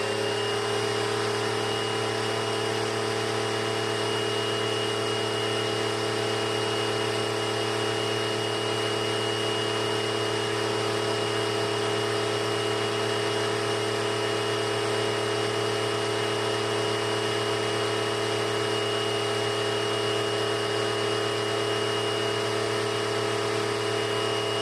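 A 2000 Dirt Devil Featherlite upright vacuum runs with its brush roll spinning, giving a loud, constant motor whine with a steady tonal drone that holds without change throughout.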